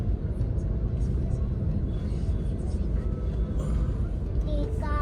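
Traffic jam on a road at night, heard as a steady, loud low rumble of idling and crawling engines, with a faint horn-like tone near the end.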